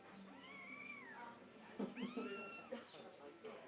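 Kitten from an abandoned litter rescued in a Japan nuclear radiation zone, one of them sick with an upper respiratory infection, meowing in two drawn-out calls followed by a few shorter cries, close and clear.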